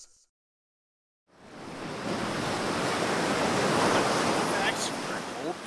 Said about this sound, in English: There'll be more than waves crashing at this location.